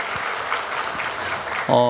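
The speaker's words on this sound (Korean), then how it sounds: "큰 박수로 환영합니다" A church congregation clapping steadily during a Sunday service, followed at the end by a brief burst of a tonal sound, likely music or a voice.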